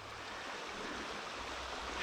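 A river in the Catskill Mountains of New York flows steadily past a sharp bend lined with overgrown trees, giving a continuous broadband rush of moving water with no talk and no breaks.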